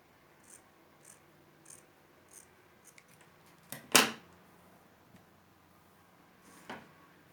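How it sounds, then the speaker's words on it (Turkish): Scissors cut the collar off a fabric scarf with a few soft, evenly spaced snips, then one louder, sharper cut and a last faint snip, close and quiet. "Yakayı kesiyorum işaretlediğim yerden."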